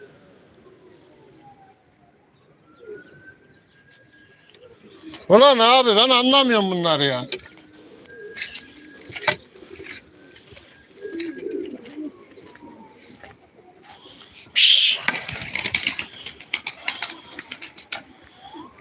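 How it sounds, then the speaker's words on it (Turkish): Pigeons coo and flutter close by, with bursts of wing flapping and calls, while someone talks intermittently over them. "Şimdi kuşlar diyor terasta diyor."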